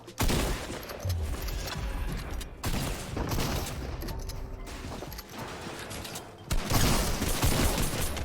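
Gunfire in a Fortnite match, bursts of shots firing in quick succession with brief gaps, loud and close, with no one talking over it.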